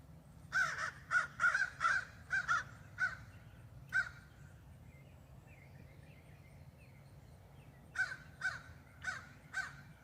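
Crows call in a morning yard near bird feeders, a burst of loud harsh caws in quick succession, then a quiet gap, then another run of caws, over a low steady background hum.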